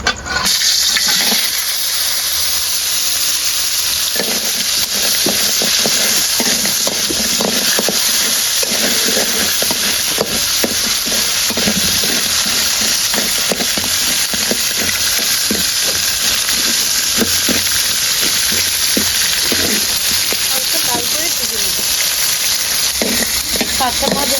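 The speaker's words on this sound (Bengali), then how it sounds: "তেল গরম হয়ে গেছে দিয়ে দিচ্ছি কাঁকড়া" Crab pieces frying in a little hot white oil in a kadai, a continuous close sizzle with scattered crackles and stirring clatter over about twenty-four seconds, no talk.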